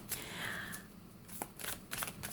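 Tarot cards being shuffled by hand: a run of crisp, riffling paper flutters and soft slaps, close and fairly quiet, with no talking.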